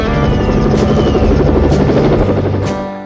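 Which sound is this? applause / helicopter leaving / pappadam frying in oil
helicopter leaving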